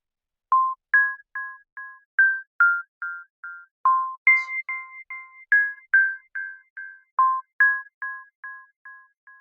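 A bright synthesized bell sample from a Silent expansion sound bank in FL Studio plays a rhythmic melodic pattern of clean, evenly spaced tones, each decaying quickly, with no other sounds.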